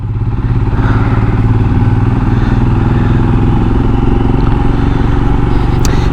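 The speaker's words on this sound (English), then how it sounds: "See, now this is the difference with putting my original exhaust back on." A Royal Enfield motorcycle fitted with its original exhaust thumps steadily and loudly up close, its low single-cylinder beat running without a break while riding, with no speech over it.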